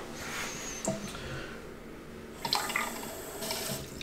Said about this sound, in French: Je vais compléter jusqu'à 1 litre parce qu'il nous faut 1 litre de révélateur.